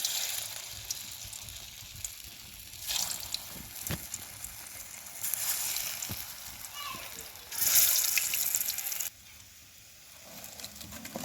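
Egg chops are lowered one by one into hot oil, and the frying sizzle swells in bursts and then settles to a softer bubbling. A person speaks quietly in the background.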